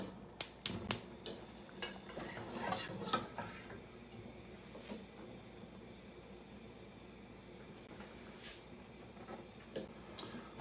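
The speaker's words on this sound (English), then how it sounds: "I'm gonna move a pot and scoop that over" A pot shifted and polenta scooped, a few sharp metallic clanks at the start followed by scattered light scraping and clinking, close and fairly quiet with no talking.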